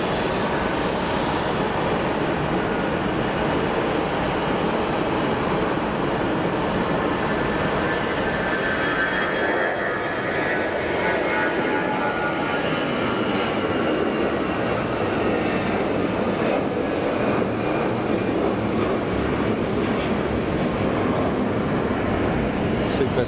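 Airliner jet engine at Geneva Airport, a loud, sustained roar with a broad rushing whine that swells and shifts as the aircraft moves, continuous throughout with talk faintly underneath.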